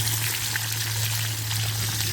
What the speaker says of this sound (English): Can't beat that sizzling sound though